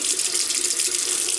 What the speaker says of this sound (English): Just rinse the razor.